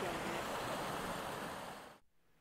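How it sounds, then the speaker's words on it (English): A rocky river at Sandy Creek on the Northville-Placid Trail rushes steadily, a broad continuous wash of flowing water nearby that cuts off abruptly near the end. "Nice little river, lots of rocks to sit on"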